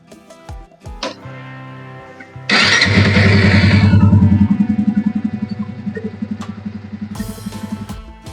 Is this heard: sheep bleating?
no